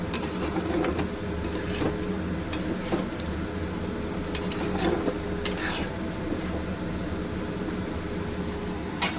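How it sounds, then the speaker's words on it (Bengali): A spoon stirs potato and soybean curry with ghee in a metal pot, giving a continuous scraping and sizzling texture broken by several sharp clinks against the pot. "আমি নেড়ে চেড়ে খুব ভালো করে মিশিয়ে নিয়ে নাবিয়ে নেব তরকারিটা"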